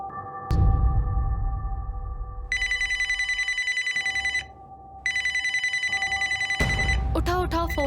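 A telephone rings in two long electronic bursts with a short pause between them, over a low rumbling background. Voices break in right after the second ring.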